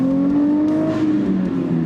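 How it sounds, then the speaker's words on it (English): A Nissan Z Proto pulls a second-gear roll-on from mid-range torque, its engine note a loud, close, steadily climbing drone through the short burst. "So a roll on in second from the meat of the torque curve"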